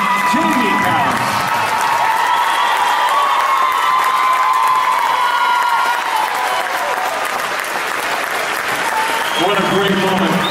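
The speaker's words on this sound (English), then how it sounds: "big round of applause for Addison's mom, Jamie Powers." A large indoor crowd at a sports awards event claps and cheers loudly and continuously, a dense wash of applause with shouts and voices mixed in throughout.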